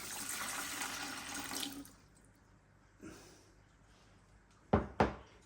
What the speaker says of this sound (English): You've got to put a little bit of water in the bottom of this machine.